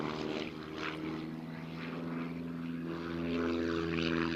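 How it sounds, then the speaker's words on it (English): A 1946-type Pitts biplane with a small propeller engine flies aerobatic manoeuvres at an air show, its steady droning buzz loud and continuous with slight swells in pitch and volume throughout. "The original Pitts biplane from 1946 had a 65 horsepower motor"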